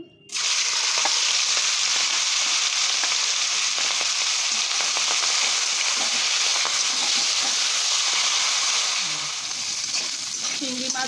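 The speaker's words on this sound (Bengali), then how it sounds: "তেল দিয়ে দিচ্ছি আর কটা চিংড়ি মাছ আমি দিয়ে দিচ্ছি ভেজে নিচ্ছি" Prawns hit hot oil in a kadai, setting off a loud, steady, close sizzle that holds for several seconds with faint clinks under it.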